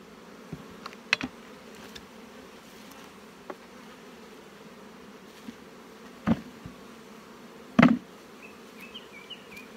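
Honey bee colony in an apiary hive being worked, a faint steady buzz with scattered louder bees darting close and a few sharp knocks from handling frames, no talk.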